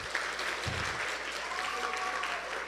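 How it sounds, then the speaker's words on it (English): Audience applauding at a Christian academy sports banquet: steady, sustained clapping from a crowded room, fairly close and even throughout, with no clear speech over it. "Give him one more round of applause."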